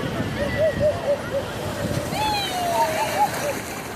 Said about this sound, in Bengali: ওই ঢেউ আসছে, ঢেউ আসছে, ঢেউ আসছে